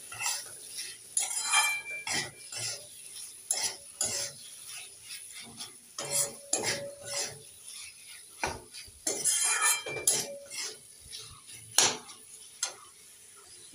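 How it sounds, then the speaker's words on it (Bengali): Fried prawns being stirred in a pan for Bengali chingri posto, with a metal utensil scraping and clinking in irregular bursts over a soft sizzle, close by with no talking. "দিয়ে দেব ভেজে রাখা চিংড়ি মাছ। এবার একটু নেড়ে চেড়ে দিয়ে দেব।"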